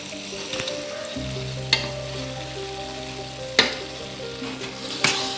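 Peanut sambal fries in a pan with a steady close sizzle and gentle bubbling, broken by a few sharp scraping stirs, with no voices.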